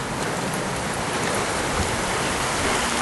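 Steady rain pours down outdoors during an airsoft test of a full-metal, real-wood DBoys AK-74, a dense unbroken hiss of drops lasting the whole stretch with no voices.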